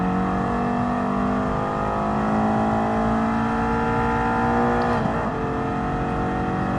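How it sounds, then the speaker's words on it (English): A race car in Gran Turismo Sport, heard from inside the cockpit, holds a steady loud engine drone with a whining turbo hiss layered over it and a brief shift blip near the end. "I can hear the hissing from inside the car."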